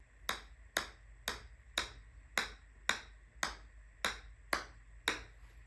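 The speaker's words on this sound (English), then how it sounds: "And this is what the Bridgestone sounds like." Ten sharp, close clicks of a golf club striking a Bridgestone golf ball, each a bright, slightly higher-pitched snap with a brief ring, repeated at a regular pace of roughly two per second with no talking.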